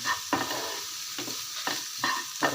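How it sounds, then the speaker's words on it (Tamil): Sliced okra sautés in a hot pan with a pinch of salt: a steady soft sizzle broken by several close, scraping stirs at uneven intervals, with no voices. "வெண்டைக்காயில் வதக்குறப்ப நீங்கள் கொஞ்சம் உப்பு போட்டு வதக்குங்க"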